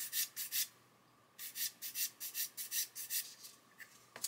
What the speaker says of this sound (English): A 1000 grit sanding stick, and that's getting rid of that seam.